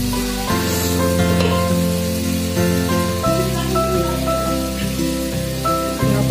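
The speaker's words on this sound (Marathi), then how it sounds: "बघा चुलीवरचं चिकन." Chicken sizzles and fries steadily in a pan on a wood-fired clay stove in a Konkan village home, a close, continuous crackle with occasional stirring and faint background tones throughout.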